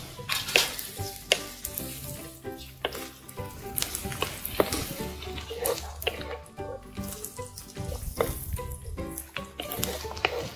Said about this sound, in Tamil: இப்போ கருவேப்பிலை சேர்த்துக்கலாம் ரெண்டு ரெண்டு பச்சை மிளகாவும் சேர்த்துக்கலாம்